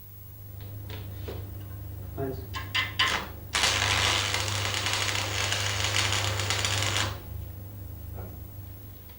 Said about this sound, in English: Strike the arc at the end and move inwards to make a tack weld about 10 millimeters long.